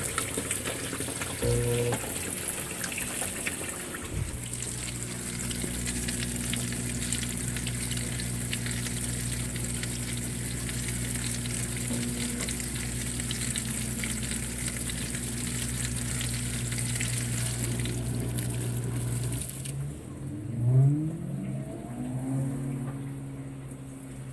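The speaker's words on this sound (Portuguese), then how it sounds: "E eu tô lavando o copo porque ele tava molhado." Running tap water splashes and gushes as a plastic soap dispenser cup from a Consul washing machine is rinsed, a steady close hiss with a faint hum that shifts near the end.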